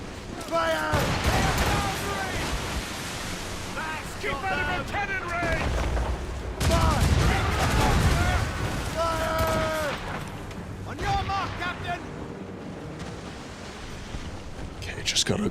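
Naval cannon fire in the video game Assassin's Creed Rogue booms in repeated heavy blasts amid ocean waves and battle noise, while voices shout over the chaotic sea fight.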